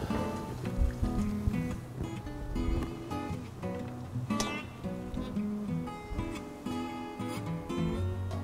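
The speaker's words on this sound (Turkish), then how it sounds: "Makarnanın suyunu süzüyorum." Water poured off cooked pasta, a dense, continuous rushing splash that runs loud and unbroken through the whole clip.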